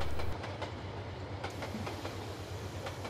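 Coal hopper cars rolling along the track in the Montana Rail Link simulator game, a steady rumbling rail roar with faint wheel clicks, a heavier burst at the start settling into continuous close running noise without talk.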